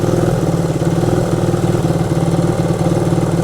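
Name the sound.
1971 Honda CB100 motorcycle engine running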